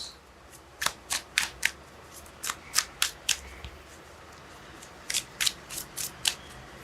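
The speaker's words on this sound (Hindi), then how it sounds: "okay, one more shuffle" Tarot cards being shuffled by hand make two clusters of crisp, rapid riffling snaps, close and distinct against a quiet background, separated by a short pause.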